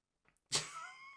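A house cat lets out one short, drawn-out meow after a moment of near silence, close by and fairly quiet.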